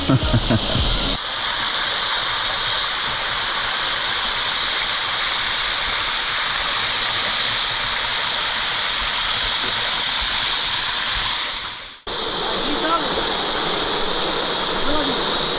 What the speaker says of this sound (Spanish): el río Amina se encuentra con este